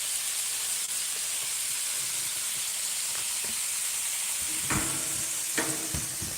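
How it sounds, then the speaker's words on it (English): Butter sizzles and hisses steadily in a small frying pan just used for eggs, a continuous bright frying crackle close by, broken by a few soft clinks and scrapes near the end. "I'm going to add a little butter in the frying pan"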